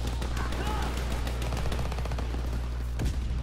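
A World War II machine gun nest in Call of Duty WWII fires in rapid, continuous bursts, the sharp reports steady and moderately distant beneath a low constant game hum.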